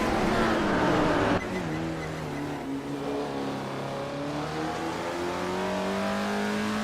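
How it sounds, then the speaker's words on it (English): A 1969 Ferrari 365 GTB race car engine drones loudly and steadily in a racing video game, its pitch climbing slowly after a sharp gear change early on. "Vanya Shell Gaming is driving a 1969 Ferrari 365 GTB for Daytona."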